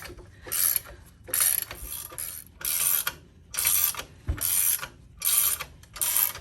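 A MacPherson coil spring compressor for a Subaru is loosened on a coffee table, its ratchet clicking in seven rhythmic bursts with short pauses between, close and fairly loud with no talk.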